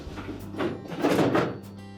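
A Whirlpool refrigerator pantry drawer slides along its rails with soft rumbling friction as it is pushed back in, ending in a muffled thunk as it settles into place nearby.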